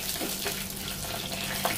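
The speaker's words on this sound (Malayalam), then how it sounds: "അതോടൊപ്പം എടുത്ത് വെച്ചിരിക്കുന്ന വെളുത്തുള്ളിയും ഇഞ്ചിയും ചേർത്ത് കൊടുക്കാം" Garlic and ginger go into hot oil with curry leaves for a Trivandrum fish curry, producing a dense, continuous hiss and sizzle that stays fairly even and close throughout, with no voices.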